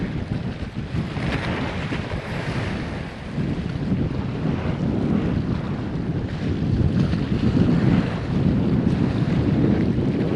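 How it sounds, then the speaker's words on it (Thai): Strong coastal wind roars and buffets the microphone on the shore at Chonburi, Thailand, during a fishing outing, with waves beneath it; a dense, continuous rush that swells slightly toward the end, with no voices. "น้ำก็แรงลมก็แรง"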